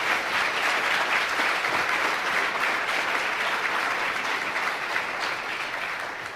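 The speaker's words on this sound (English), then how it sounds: "If you all will give a round of applause to this expert panel" An audience at a regional conference applauds an expert panel with a full, steady round of dense clapping that holds evenly throughout and tapers slightly at the end.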